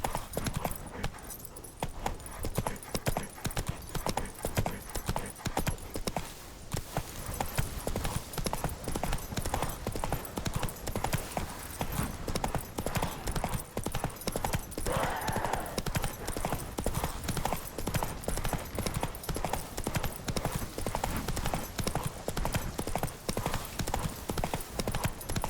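Geralt's horse Roach from The Witcher 3 gallops steadily, a continuous rapid clip-clop of hooves running close and loud for the whole stretch, with a brief whinny partway through.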